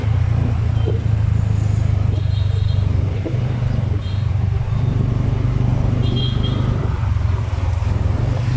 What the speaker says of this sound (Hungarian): De addig folyamatosan ugye mennek az autók,